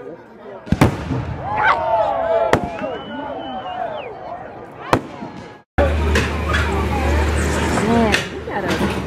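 Fireworks burst at a minor league baseball game, with sharp loud bangs, crackling and whistling trails over a noisy crowd. Nearby people talk and exclaim throughout.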